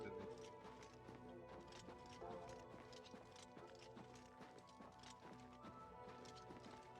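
Horse hooves clip-clopping in the video game Oblivion Remastered, a quick steady rhythm of hoof strikes under a continuous game music bed, very faint overall.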